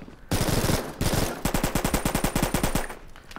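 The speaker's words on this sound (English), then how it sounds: "You're just shooting from the waist." A UMP submachine gun fires from the hip in the VR shooter Contractors VR, giving loud, close automatic bursts: a short rapid volley, a pause, then a longer run of evenly spaced shots.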